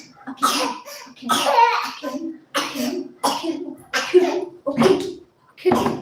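A close, repeated series of coughs and throaty hacks, about seven bursts in an uneven rhythm with short gaps between them.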